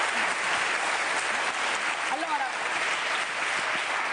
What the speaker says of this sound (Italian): È un applauso all'unica italiana dell'Inter